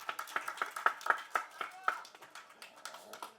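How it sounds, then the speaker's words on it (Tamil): Scattered handclaps from a crowd at a movie audio launch, a dozen or so sharp, uneven claps that thin out toward the end, fairly faint and close, with voices mixed in. "அவர் பேரை சொன்னாலே இங்கே கைத்தட்டுறதுக்குன்னு ஒரு கூட்டம் இருக்குது"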